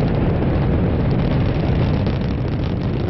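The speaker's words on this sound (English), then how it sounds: "I'm in the space shuttle, and I'm ready for takeoff." Dense, loud roaring rumble of a space shuttle taking off in a comedy sketch, a steady broadband blast lasting a few seconds before cutting off abruptly, no speech.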